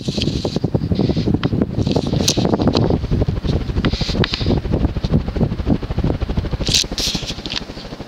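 An Encon (King of Fans) Rattan 52-inch ceiling fan running on high speed, about 200 RPM, gives a steady, loud whooshing drone with a rhythmic airy beat, close by and continuous, with a few light clicks.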